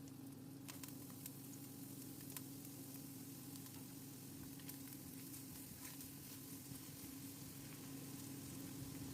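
Chicken and garlic sautéing in a pan, a steady, soft sizzle and crackle of frying with occasional faint pops and light stirring clicks, continuous and fairly quiet throughout.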